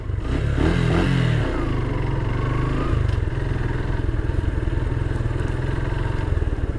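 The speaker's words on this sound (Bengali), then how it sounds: "আমি ক্লাচটা ছাড়ছি, কিন্তু আমার বাইকটা স্টার্ট হয়ে গেছে" A motorcycle engine that has just been bump-started by releasing the clutch, without the self-starter or kick, settles into a steady, rhythmic idle thump after some brief clatter at the start, running on alone and fairly close.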